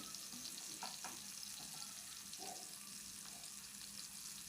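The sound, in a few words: potatoes and raw banana frying in a pan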